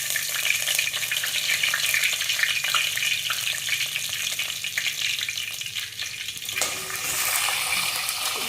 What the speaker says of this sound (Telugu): నూనె వేడెక్కింది, జీలకర్ర వేస్తున్నా కోపులో.